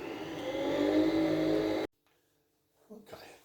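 Nespresso Vertuo Lattissima coffee machine running its first-use sequence, a loud steady whirring motor hum that cuts off abruptly, leaving near silence before a faint short rattle.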